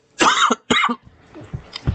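Two sharp, loud coughs close to the microphone, followed by softer throat sounds and breathy noises.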